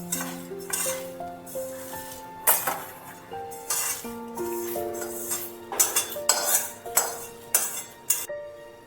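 Roasted shukto spice mix is tipped from a pan into a bowl, giving repeated close metallic clinks and scrapes with ringing tones, growing busier and more rhythmic toward the end.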